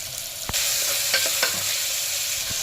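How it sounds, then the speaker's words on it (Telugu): Two medium chopped onions and four green chillies frying in hot oil, a loud continuous sizzle with a few sharp spoon knocks and stirring scrapes, close and alone. "ఇప్పుడు ఈ ఉల్లిపాయల్ని లేత బంగారు రంగు వచ్చినంత వరకు మనం వేయించుకోవాలి"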